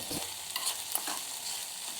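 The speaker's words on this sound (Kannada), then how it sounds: "ಈರುಳ್ಳಿ ಟೊಮೆಟೊ ಫ್ರೈ ಮಾಡ್ತಿದ್ದೀನಿ" Onion and tomato fry in a pan on a gas stove, a steady sizzle broken by occasional scraping stirs, close by and with no voices.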